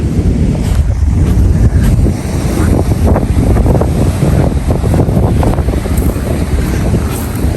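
Loud, steady wind buffeting the microphone over a continuous rumble of sea waves on the coast at Batticaloa, Sri Lanka, with no voices.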